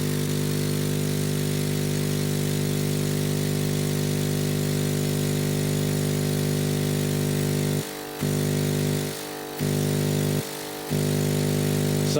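A laser engraver's air assist pump runs loud and steady with a constant droning hum and buzz, its tone dipping briefly three times near the end as it is muffled or handled.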